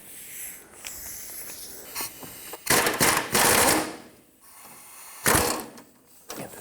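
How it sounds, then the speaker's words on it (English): Two 21mm bolts holding the idler arm on a 1997-2003 Ford F-150 are loosened with a wrench, giving bursts of loud, close ratcheting and hissing mechanical noise separated by quieter pauses. "I'm going to unbolt the 2 21mm bolts that hold this idler arm"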